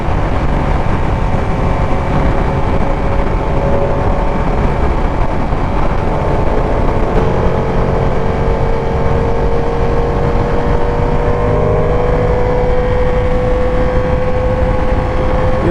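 A Ducati Panigale V2 motorcycle is ridden at speed, its engine droning loud and continuous with rising pitch as it accelerates, wrapped in heavy wind rush.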